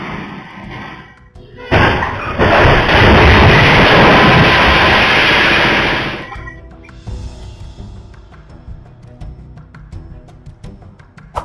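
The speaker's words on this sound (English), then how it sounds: "The truck smashed into a store after colliding with several vehicles, causing significant damage." A truck smashing into a store after colliding with several vehicles: a sudden loud crash followed by about four seconds of heavy roaring, grinding impact noise, then fading clatter and scattered knocks.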